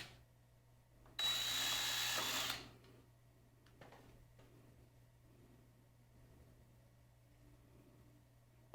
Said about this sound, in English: he's drilling out one of the holes for the spring staple